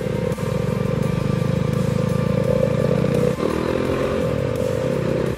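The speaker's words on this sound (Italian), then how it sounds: "Non l'abbiamo fatto, ma adesso al tramonto andiamo in moto." Motorcycle ridden through a hairpin bend on the Route des Grandes Alpes at sunset, a loud, close, steady engine drone with a brief dip as the throttle shifts partway through.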